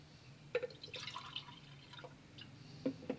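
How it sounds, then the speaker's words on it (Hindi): Half a glass of water is poured into a cooking pot while making achari mattar pulao, a few faint splashes and drips over low background hum, quiet and without talk. "ये हमारा हाफ़ गिलास पानी मज़ीद इसमें गया।"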